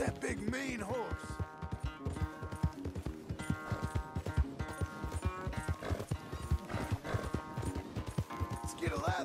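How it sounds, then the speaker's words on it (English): Horse hooves in Red Dead Redemption 2 clip-clop in a fast, steady rhythm, close and continuous, with an occasional whinny and someone talking over the galloping. "Where's that big, mean horse?"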